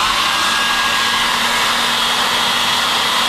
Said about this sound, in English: you can use a hairdryer to caramelise creme brulee